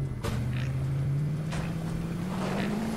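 A car engine roars steadily in Fortnite, a low sustained drone whose pitch climbs slowly as the vehicle drives, with a few brief higher bursts over it.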